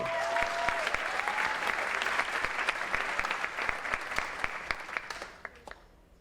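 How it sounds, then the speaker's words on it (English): An audience at a high school awards ceremony claps steadily, a dense patter of many hands with a few sharp individual claps standing out, fading away over the last second. "If we could hold our applause"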